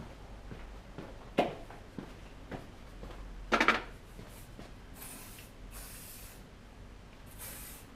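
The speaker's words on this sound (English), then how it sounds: "We'll do plastic hairspray, why not?" Hairspray sprayed onto hair during a haircut, several short faint hissing bursts scattered among quiet rustling and background noise.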